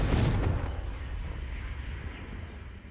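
In the Hogwarts Legacy video game, a Confringo fire spell sets off an explosion. A loud blast booms at the start, then its rumbling tail slowly fades.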